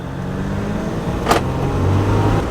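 A 2020 Jeep Wrangler EcoDiesel drives on the road with a steady, close engine hum that rises slightly toward the end, with a brief whoosh in the middle.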